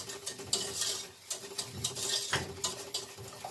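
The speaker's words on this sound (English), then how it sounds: "you're just going to stir this for a little bit to help dissolve the sugar" Sugar being stirred in a pot on high heat to make homemade caramel, giving a steady scraping and tapping of a utensil against the pot with irregular bursts, fairly close and with no talking.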